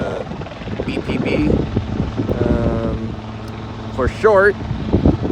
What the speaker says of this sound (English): The helijet lands on the helipad, on the helijet pad.